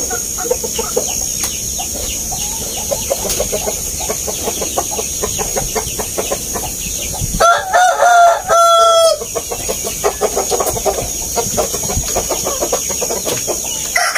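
A Japanese Shamo rooster crows clearly and fairly close for about two seconds midway, while hens cluck and scratch steadily throughout on a farm, with no talking.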